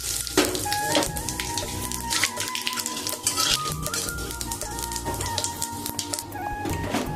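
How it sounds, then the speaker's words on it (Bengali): Cumin, bay leaf and garam masala sizzle in hot oil left from frying potatoes, a steady crackling fry with frequent sharp pops and occasional utensil clinks. "আমি আলু ভাজার তেলের মধ্যে আমি জিরে, তেজপাতা, গরম মশলা দিয়ে দিচ্ছি।"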